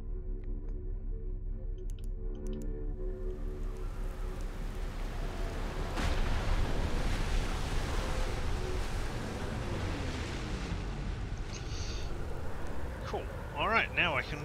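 Ocean waves wash over the water-covered planet Giant's Deep in the video game Outer Wilds, a swelling roar of surf and wind rising midway over a low droning tone, with game sounds laid over it.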